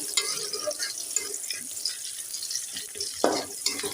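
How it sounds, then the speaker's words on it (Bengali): Onions frying in oil in a pan, a continuous moderate sizzle with light stirring scrapes and an occasional louder spatter, heard close and without speech. "তেলের উপরে পেঁয়াজ দিয়ে ভেজে নিচ্ছি"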